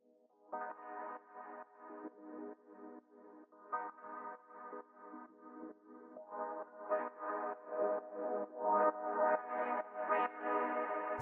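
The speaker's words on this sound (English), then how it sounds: "So the first sound that I have here is this little pad thing," Atmospheric techno synth pad built from vinyl noise, a soft, quiet, hazy swell with a faintly pulsing, crackly texture that slowly grows louder and brighter, heard alone.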